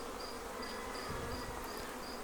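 Bees hum in an Apimaye Ergo hive, a dense, steady, faint buzzing drone that continues without a break, with no voices.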